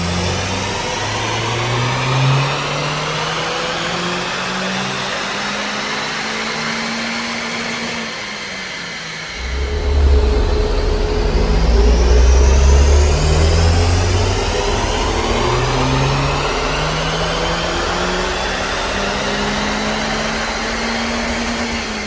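Turbocharged 4G15 engine in a Smart ForFour Brabus on a dynamometer, loud and droning as it revs up through a pull, drops off briefly, then rises again.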